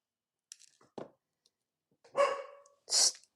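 A dog gives a few short barks and yips, ending in two loud, close barks, with near silence between them.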